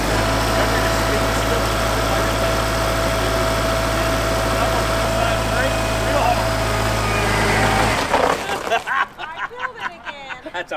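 A Kubota compact tractor engine runs loud and steady with the throttle on, a continuous droning hum that cuts out near the end, leaving quieter uneven mechanical noise and faint voices.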